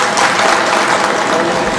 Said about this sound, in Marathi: एकदा तुमच्यासाठी टाळ्या वाजवा